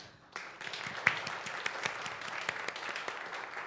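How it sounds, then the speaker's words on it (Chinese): An audience at a youth church service breaks into applause, a dense run of many hands clapping at moderate volume that starts abruptly and carries on steadily. "我们用热烈的掌声来谢谢婕妤，她勇敢的见证。"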